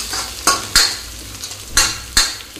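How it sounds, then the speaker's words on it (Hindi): Onion, capsicum and black pepper stir-fry in a pan with a steady sizzle, broken by several sharp scrapes and clanks of a spatula against the metal at an uneven pace, with no talk. "काली मिर्च को भी इसके साथ में भूज लेते हैं"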